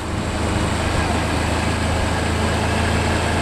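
A motorcycle engine idles with the clutch pulled in and the revs held slightly up, giving a steady, close, continuous drone without breaks.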